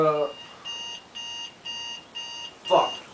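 An alarm clock beeps in four even bursts of repeated high electronic tones, loud and close, with a shouted voice before and after.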